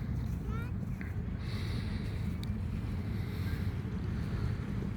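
A boat motor drones on open water, with wind buffeting the microphone and waves washing in a steady, loud, continuous roar.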